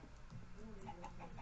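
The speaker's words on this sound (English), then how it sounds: "Okay, oh, another chicken" Minecraft chickens cluck in a quick run of short, soft clucks over a low background hum, with faint talk underneath.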